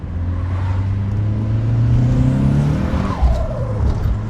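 A turbocharged 1990s car pulls hard in second gear, its engine note climbing loud and steady through the rise, with a brief tire chirp or boost flutter near the end.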